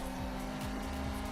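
Car engine drones in Need for Speed Unbound during a handbrake drift turn, with a steady tire and motor roar across a short burst.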